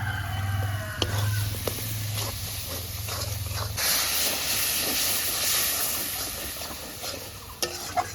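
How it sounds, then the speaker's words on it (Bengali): Chicken pieces fry and get stirred in a spice paste with rice-brain paste for biryani, a steady close sizzle and hiss with scraping stirs and a low hum early on. "মাংসগুলোকে কষিয়ে নিচ্ছি মশলার ভিতরে দিয়ে"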